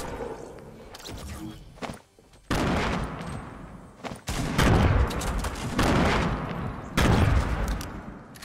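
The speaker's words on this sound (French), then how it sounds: "C'est le meilleur pompe de Fortnite Epic Games" Shotgun gunfire in the video game Fortnite Battle Royale, several loud, sharp blasts with booming tails spaced a second or two apart amid other game noise.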